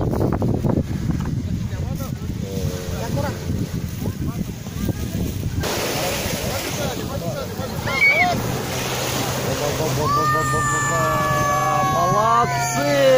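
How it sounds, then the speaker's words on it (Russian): Sea waves wash steadily onto the Sea of Azov shore, with wind buffeting the microphone and people talking nearby. "Азовское море сегодня."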